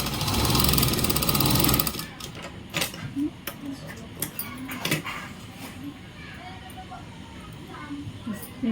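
A sewing machine runs in a short, loud burst while stitching tucks on a katori blouse, then gives way to scattered clicks and handling noises as someone talks.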